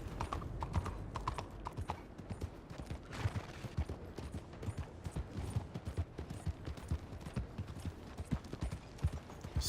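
Horse hooves clip-clop steadily and close by in the Red Dead Redemption 2 video game, a brisk continuous rhythm that runs throughout with faint game ambience.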